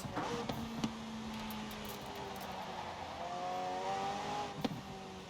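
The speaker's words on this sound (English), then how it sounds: "Car sounds really good from the outside, I gotta say." An Automobili Turismo e Sport GT racing car engine in Forza Horizon 4 revs and drones at moderate distance, pitch climbing steadily, with a couple of sharp clicks over a faint background.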